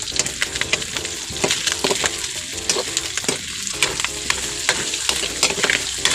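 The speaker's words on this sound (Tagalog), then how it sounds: "linagay na ang ahos at Bombay para bumango yung ating pakbet" Garlic and onion sauté in a hot pan for pinakbet, with steady close sizzling broken by frequent scrapes and clacks of stirring and no talk.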